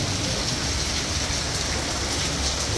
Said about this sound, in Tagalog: Kaso umuulan lang.